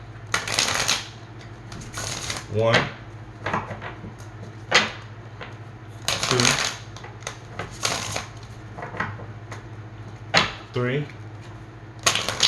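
Cards riffled and shuffled in several short bursts, with a person counting aloud between them at close range.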